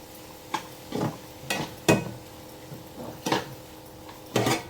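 A spoon stirs jaggery and lentil puran in a pan, the mixture sizzling softly while about eight separate scraping strokes and clinks sound close by at an uneven rhythm, with no talk.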